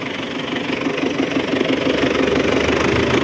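A 2018 model 1025 tractor's engine idles close by, a steady low knocking rumble with even rhythm that holds constant throughout, no voices heard.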